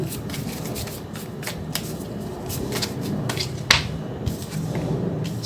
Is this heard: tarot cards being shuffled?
yes